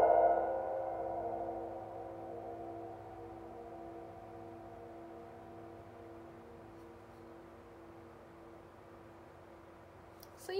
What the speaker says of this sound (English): So for the yarn mallet, I'll let it vibrate.